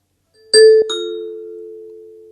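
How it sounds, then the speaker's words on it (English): An Amazon Echo plays a Ring doorbell's two-note ding-dong chime, a clear first strike followed by a ringing second tone that fades slowly, alone in a quiet room. "As you can hear, when I press the doorbell, the Echo's alerted me."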